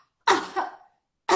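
An adult gives two deliberate, demonstration-style coughs: a strong double-pulsed cough up close, then the start of another after a short pause.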